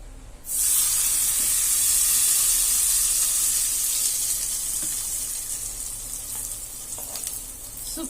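Hot tempering oil with urad dal poured into garlic chutney, bursting into a loud, bright sizzle that slowly fades to crackling, with a few faint pops.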